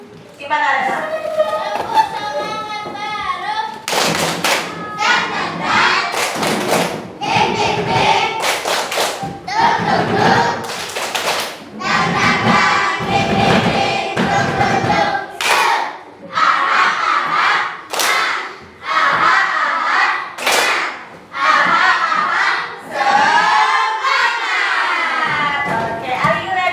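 Classroom of students doing a rhythmic clapping cheer, loud bursts of sharp claps in patterned groups alternating with chanted voices and a teacher speaking between rounds.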